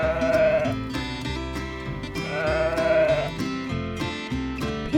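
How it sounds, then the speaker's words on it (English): A sheep on a farm bleats twice in long, wavering calls over an upbeat music track, with no talking. "Sheep."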